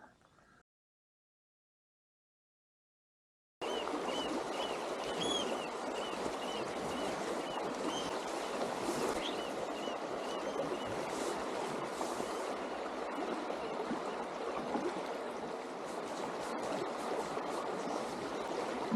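The Saltstraumen maelstrom's tidal current rushes on as a broad, constant roar of moving water. It starts after a brief silence and stays steady and full to the end, while faint bird calls chirp high above it.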